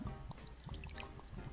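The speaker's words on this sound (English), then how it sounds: "Mark casually reaches over me to pour" Drink poured into a glass for a toast, a quiet liquid trickle with small drips and splashes running steadily throughout, close and soft.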